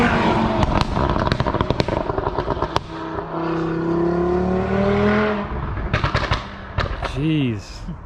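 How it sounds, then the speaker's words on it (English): A tuned 2020 Audi RS3 with no particulate filter fires rapid, sharp exhaust bangs and crackles on downshifts. Bursts of popping sit around a loud, swelling engine note, ending with a quick rev. "it's got them like hit you in your chest downshift bangs that the pre-facelift used to have"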